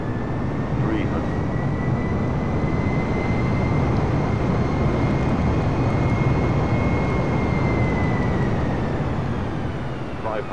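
A steady aircraft engine drones in Microsoft Flight Simulator 2020 as the throttle is pushed up, a loud continuous roar with a faint rising and falling tone across the whole stretch.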